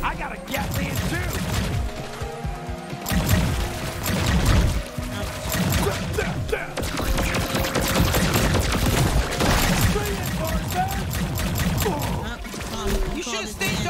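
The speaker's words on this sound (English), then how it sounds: "I got a Gatling too" Rapid gunfire from a Gatling gun in the video game High on Life, a steady mechanical clatter that runs through the clip amid other game effects, with talk over it.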